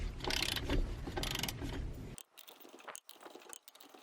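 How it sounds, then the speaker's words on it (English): Torque wrench working on trailer wheel lug nuts, a dense mechanical rattle first, then sparse close clicks and metallic taps after a sudden drop. "then grab my torque wrench"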